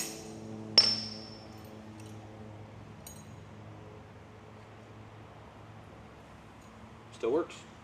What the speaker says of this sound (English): it's time to hit the belt with the hammer